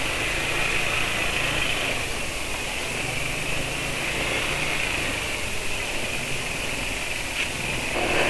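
A steady, noisy motorcycle engine drone runs throughout, close and constant, with a rough idling rumble and a hissy upper whine.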